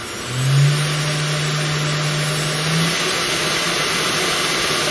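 A cooling fan on top of a CNC spindle, run by an SMC5 controller at high RPM, blows a steady whir that holds at a constant pitch, with a brief rising tone near the start.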